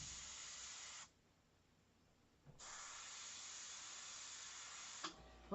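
An airbrush sprays paint in steady, close hissing bursts, a long stream, a brief pause, then another long stream ending with small clicks and handling noises, with no talking.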